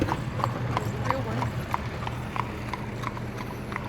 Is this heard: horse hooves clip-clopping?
yes